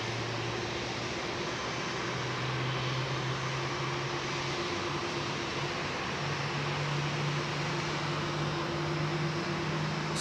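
Aircraft engines start up during pushback at Heathrow, a steady broadband roar and whine with low droning tones that holds evenly throughout, with no talk.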